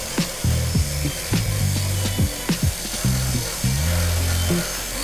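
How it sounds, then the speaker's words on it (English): An impact gun whirs in repeated short bursts, revving up and down with brief pauses between, close and loud, with no voices, while working on rusty windows. "So that's an impact gun"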